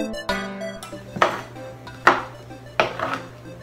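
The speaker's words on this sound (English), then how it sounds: "so we're gonna finally chop the dark chocolate up and fold it into our mix" A knife chops a dark chocolate bar on a board, giving three sharp, evenly spaced knocks with small scraping rattles between them. The chopping is close but fairly quiet.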